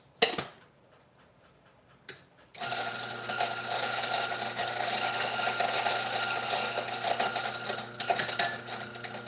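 A coffee grinder grinds beans for a V60 pour-over: a few soft clicks, then a loud, steady mechanical whir that starts abruptly and runs without a break to the end.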